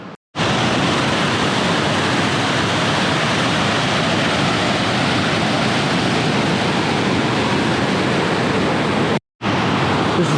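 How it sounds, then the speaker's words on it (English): Bourne Eye Falls, a waterfall in the Darrington Bornite Mine area, roars as a loud, steady, broadband rush of falling water that fills the whole stretch, heard close up without a break. "And there is your Bourne Eye Falls."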